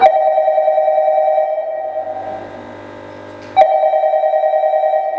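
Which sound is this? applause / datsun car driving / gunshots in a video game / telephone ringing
telephone ringing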